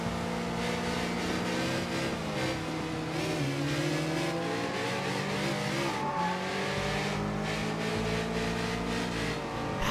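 A car engine revs hard and continuously in the video game Sleeping Dogs, its pitch rising and falling with acceleration and tire squeal, loud and close for the whole stretch.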